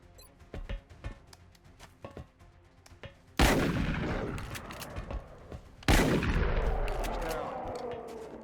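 Two loud gunshots from the video game XCOM Enemy Within, a sharp blast with a long ringing tail followed a few seconds later by a second, after quieter scattered clicks and taps.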